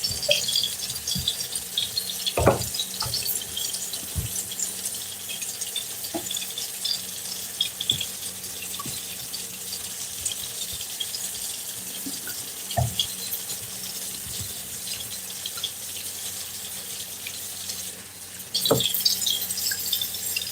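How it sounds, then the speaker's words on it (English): A kitchen sink being rinsed under a running tap with bleach water: a steady hiss of flowing water with occasional clatters and knocks from the basin, alone and close by. "Now I'm just cleaning the inside of my sink really quick with some Clorox water."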